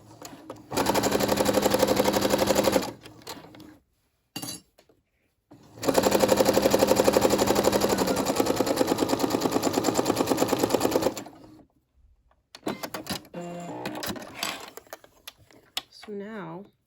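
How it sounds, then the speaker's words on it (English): A Brother SE600 sewing machine runs in two long straight-stitch bursts, a fast even mechanical whir, followed by brief clicks and handling sounds. "let's head over to the sewing machine"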